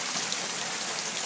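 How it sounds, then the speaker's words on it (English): Heavy rain pours down during a summer storm, a steady, close hiss of water striking surfaces, unbroken over the brief moment with no voices. "as you can see it's pouring down with rain."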